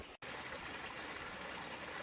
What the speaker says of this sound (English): I appreciate that waterfall.